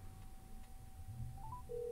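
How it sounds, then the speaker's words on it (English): Nothing Phone 2 ringtone from an incoming call: a soft steady electronic tone with a short rising chirp and a new higher note near the end, faint and alone with no talking. "You see I'm getting the ringtone."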